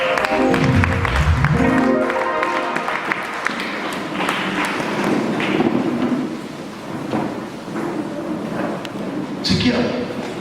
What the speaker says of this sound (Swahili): Pigia wapendwa makofi.